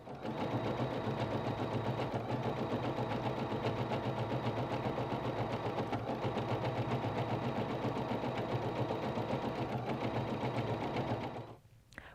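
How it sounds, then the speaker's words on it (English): An embroidery machine stitches a quilted wall hanging with a steady, fast mechanical whir, continuous and close, then stops abruptly near the end. "And then I'm going to start stitching again."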